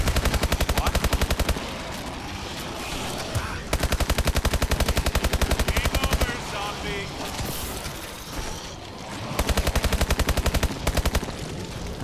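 Rapid automatic gunfire in a zombie-mode first-person shooter game, long sustained bursts of dense shots separated by short pauses, loud and close, with some in-game background sounds between bursts.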